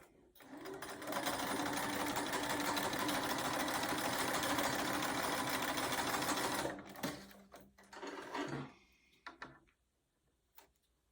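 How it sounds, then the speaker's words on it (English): A sewing machine runs steadily, stitching the layers of a quilted mug rug for about six seconds, then stops, followed by a few short bursts of handling and clatter. "And I'm going to sew."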